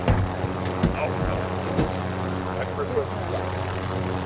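A steady droning helicopter rotor hum in the video game Warzone runs throughout, with voices talking over it and a few thumps.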